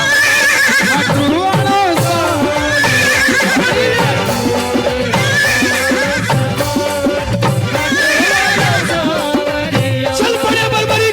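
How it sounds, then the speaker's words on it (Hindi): Horses neigh and whinny repeatedly in a loud, rhythmic series over a dense layered background, with a battle-march feel as they charge toward war. "घोड़े"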